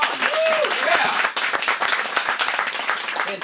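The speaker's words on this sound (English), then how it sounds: "please, round of applause for Kevin and Geek Comedy Night" A comedy club crowd at Geek Comedy Night bursts into loud, close applause, with a brief whoop early on and steady dense clapping carrying through to the end.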